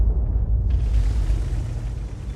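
A tank shell impact explodes in a tank video game with an Object 261 in play, a loud, sustained booming rumble with heavy low end that rolls on for a couple of seconds, with the blast widening partway through.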